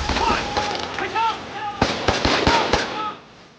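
Gunfire in a kung fu movie cracks out as a burst of sharp shots in quick succession, loud and close, over shouting voices and a wailing tone.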